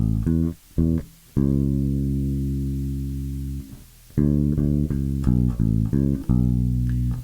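Bass guitar picks out the opening line of a song on its low notes, with short plucked notes, one long sustained tone ringing out, then a run of quicker notes, clean and close with no voice.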